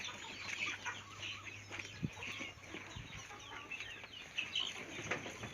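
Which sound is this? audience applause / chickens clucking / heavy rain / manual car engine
chickens clucking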